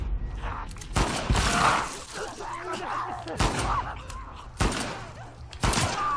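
Pistol gunfire in The Last of Us Part II, several sharp loud shots spaced a second or two apart over a busy game soundscape with other combat noise.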